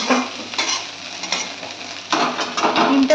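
Chowmein with egg and potato frying in a home pan, a loud close sizzle broken by repeated scraping and tossing strokes of a spatula, no voices.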